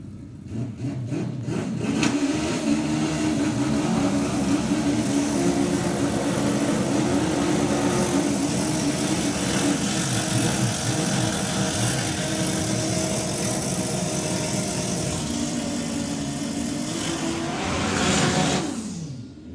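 Drag racing motorcycles at the Summer Nationals launch and accelerate hard, a loud, sustained engine roar with rising revs filling the whole stretch before cutting off sharply at the end.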